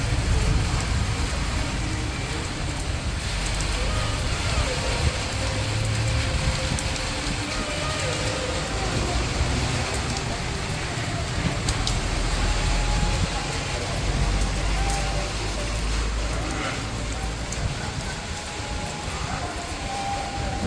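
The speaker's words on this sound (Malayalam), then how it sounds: "കണ്ടോ ഗൈസ്, നല്ല മഴയാണ്" Heavy rain pours steadily at night during a thunderstorm, a dense constant roar with no breaks, heard close and loud throughout, with faint speech mixed in.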